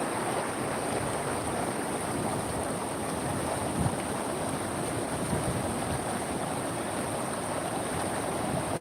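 Swollen river in flood after heavy monsoon rain, a steady broadband rush of fast-moving water filling the whole stretch, constant and fairly loud with no voices.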